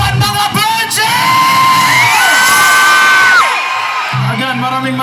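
A large crowd at a public event whoops, yells and cheers loudly and continuously, with sustained high shouts that swell and then drop back toward a lively hum of voices.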